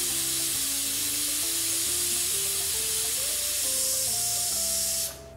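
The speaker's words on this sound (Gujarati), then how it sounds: "તો એક વિસલ થઈ ગઈ છે અને આપણું કુકર પણ ઠરી ગયું છે." A pressure cooker boiling peanuts in water over a medium gas flame lets out a loud, continuous hissing whistle whose pitch climbs in steps, then drops away abruptly at the end.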